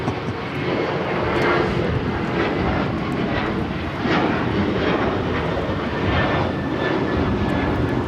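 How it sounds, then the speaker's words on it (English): An American Airlines Boeing 737-800 takes off at Los Angeles airport for Nashville, a steady, loud jet engine roar with slight rhythmic pulsing, heard on its own without talk. "This is American Airlines 1292 taking off to Nashville, Tennessee on the 737-800."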